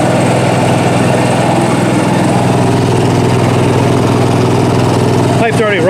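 A newly installed generator in a 1976 GMC motorhome runs steadily at a constant drone with exhaust piped outside, loud and close throughout, with a brief clatter near the end.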